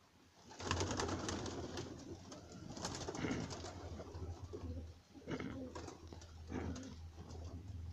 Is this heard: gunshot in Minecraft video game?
no